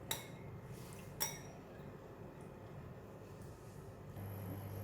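Sauce of light soy sauce, sesame oil, pepper and Shaoxing wine being mixed in a bowl for bok choy and shiitake mushrooms: two crisp, quiet clinks of a utensil early on, then soft background hum.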